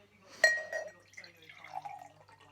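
Calypso Sweet Cherry Limeade poured into a glass at close range, a quiet trickle with bright drips and a couple of splashy spurts over a few seconds.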